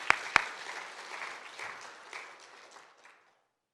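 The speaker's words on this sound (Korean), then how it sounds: "우리 크게 한번 하나님께 영광의 박수 돌립시다." A church congregation applauds together during a service celebrating a newly built sanctuary, two sharp claps standing out at the start before a steady broadband clapping fades away over about three seconds.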